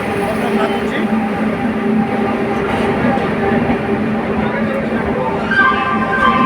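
The Puri Durg Express pulls away from platform 1 at Bhubaneswar station with a loud, continuous rumble of rolling railcars and faint rhythmic clatter, while a person talks over it nearby.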